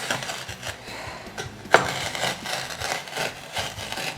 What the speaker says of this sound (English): we're just gonna smash this into a powder